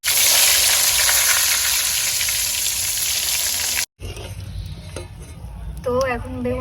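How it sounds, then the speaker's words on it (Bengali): Eggplant fries in a pan of hot oil with a loud, dense sizzle for several seconds. A brief break follows, then quieter stirring and utensil clinks with faint voices in the background. "তো এখন বেগুন ভাজা হয়ে গেছে"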